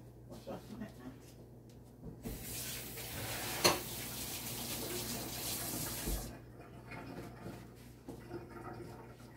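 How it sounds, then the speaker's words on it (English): Water from a kitchen tap runs steadily for about four seconds as hands are rinsed under it, close by, with quieter household clatter and handling noises before and after. "let me just wash off my hands."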